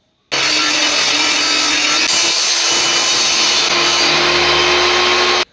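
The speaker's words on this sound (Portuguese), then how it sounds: "Agora com o disco todo levantado, a gente vai realizar o primeiro corte do nosso gabarito." A table saw blade, raised fully, makes the first cut through the wooden base of a crosscut sled jig in a woodworking shop, a loud, close, continuous whining cut that starts abruptly and stops after about five seconds.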